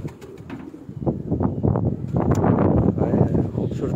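Pigeons coo in soft, throaty, overlapping bursts close by on a rooftop, a steady murmuring flock with faint chirps on top.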